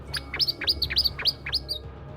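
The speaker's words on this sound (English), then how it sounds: "A few minutes later, birds started chirping, but not like normal birds." A bird chirps in a quick, rhythmic series of about seven sharp, high tweets over a faint low hum, used as an eerie sound effect in a horror story narration.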